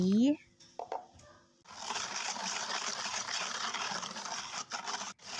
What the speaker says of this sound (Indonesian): Selanjutnya di sini aku masukkan air sebanyak 700 ml.